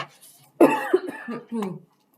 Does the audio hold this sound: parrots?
no